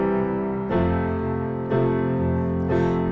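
Piano plays the simple verse chords of a song, three sustained chord strikes in steady rhythm, full and close with no voices.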